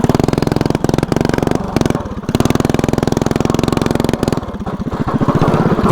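A small vertical-shaft engine mounted horizontally runs hard at full throttle, a loud, close, rapid popping buzz with a few brief dips and stutters, then pulling strongly again.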